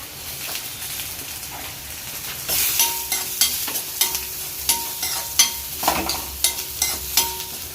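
Onions and curry leaves frying in a pan for fried fish: a steady close sizzle under rhythmic scraping stir strokes, with no talking.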